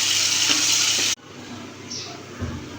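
Onions fry in a pan with cumin for a fish curry, a loud, dense sizzle that suddenly drops to a much quieter hiss with faint stirring and a brief scrape.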